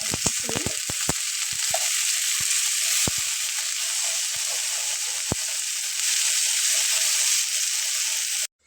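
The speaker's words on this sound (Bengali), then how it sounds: "মাংসটা ভাজা হতে হতে" Meat seasoned with salt and oil fries in a pan, a continuous bright sizzle with scattered sharp pops and clicks of stirring early on, steady and close until an abrupt stop at the end.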